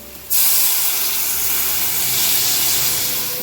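Water hits a hot pan with a sudden loud hiss that turns into a sustained, roaring sizzle of steam.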